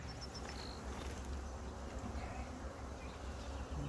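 Honey bees at a backyard hive box, a faint, steady buzzing hum of many insects with no talking over it.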